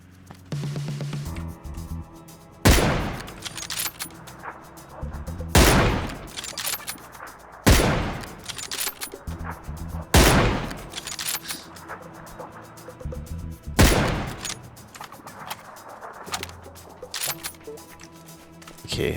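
Several loud, sharp bursts of PUBG gunfire crack out at irregular intervals, each decaying quickly, with quieter game sounds and faint talk between them.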